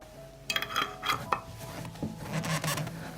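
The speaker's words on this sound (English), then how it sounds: "I immediately close the jars with sterilized lids." Sterilized metal lids are closed onto glass jars of tomatoes, giving faint close scraping and twisting sounds with a few small clinks over about three seconds.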